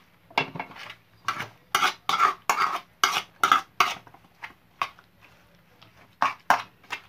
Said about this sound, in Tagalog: Kailangan haluin mo talaga